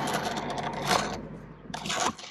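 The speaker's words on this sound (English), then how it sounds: "just pull an ungodly long amount of rope through this block pulley" Long rope drawn steadily through a block pulley for a DIY removable anchor trolley, giving a continuous close rasping friction in two pulls with a brief pause between.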